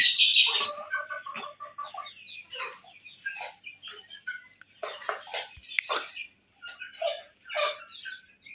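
American Light Brahma chickens clucking and chirping in a farm enclosure, a series of short, close, scattered calls with brief pauses between them.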